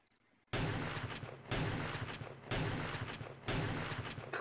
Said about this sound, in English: The fuck are you shooting, bro?